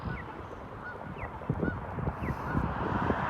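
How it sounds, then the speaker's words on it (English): Several geese honk repeatedly over a low rumble of traffic or wind, their calls fairly close and overlapping. "And there's a couple of geese."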